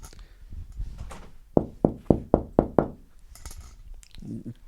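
A quick series of six sharp knocks on a door, evenly spaced and loud, preceded and followed by muffled room noise.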